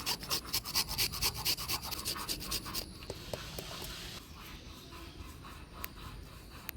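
Govindobhog rice rubbed by hand with turmeric, salt, sugar, ghee, garam masala powder and chopped ginger, giving rapid rhythmic close scratchy rubbing strokes that slow to softer, sparser scrapes.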